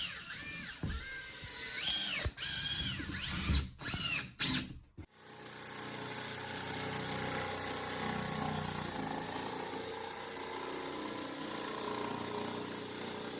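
A power drill drives screws into a board on an old farm bath house, with several short bursts of whirring, then a long, steady, loud motor drone.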